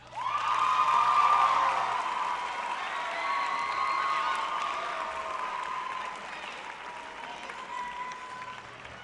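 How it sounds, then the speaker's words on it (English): A large crowd at a high school graduation ceremony applauds warmly, loud at first and gradually thinning out over several seconds, with a few faint cheers. "let us honor all of our parents and guardians with a round of applause."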